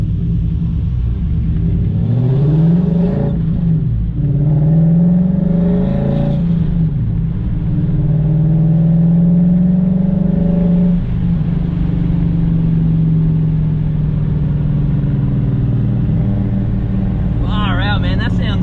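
A tuned V8 BMW M5 from HTE revs hard, its engine note climbing and falling in several sweeping pulls that end in a long sustained drone, loud and close, with a voice speaking near the end.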